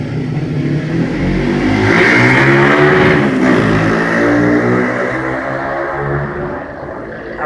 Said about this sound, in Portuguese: A moto passou